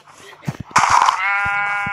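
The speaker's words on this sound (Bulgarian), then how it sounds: "О, Виктор се прави жълти овце" Sheep bleating in the Minecraft video game, a sustained nasal bleat that follows a few short clicks and thumps and holds steady and fairly loud to the end.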